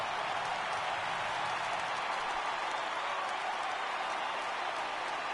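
Stadium crowd noise from the baseball video game MLB The Show 18, a steady, loud roar of cheering and applause from a crowd of over 39,000 on their feet, unbroken throughout with no distinct talk.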